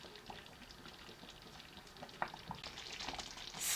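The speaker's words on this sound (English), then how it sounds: "on minimal fire as you keep stirring until when they bring out the cream" Groundnut sauce fries gently in oil over a low flame, a soft steady bubbling and sizzle broken by light stirring clicks, growing a little louder at the end.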